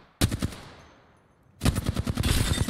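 Automatic weapon fire from the video game Apex Legends: two loud rapid bursts of shots, the first brief and fading into a quiet gap, the second longer and sustained, with no talk over it.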